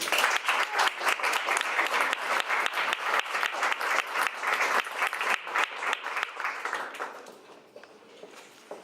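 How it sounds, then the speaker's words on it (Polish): Applause from the audience at a Toastmasters meeting in Kraków, a dense, sustained burst of clapping from a room of people that holds steady, then thins and fades out toward the end. "jeszcze raz wielkie brawa dla Moniki"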